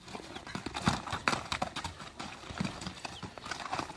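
Horse hooves clip-clop in an irregular, fairly quick rhythm as a horse for sale in Özgön, Kyrgyzstan, is ridden and shown, faint and somewhat distant with no talk over it.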